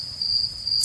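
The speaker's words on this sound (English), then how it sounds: "We're starting out with the damn Crickets. That sounds like my backyard." Steady high-pitched cricket chirping opens a country rap song, a continuous insect trill heard clearly over a soft low background.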